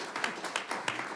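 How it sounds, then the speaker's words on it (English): An audience at a school board of education meeting claps briefly, with scattered quick hand claps that sound moderately close and a little uneven. "we can clap for him."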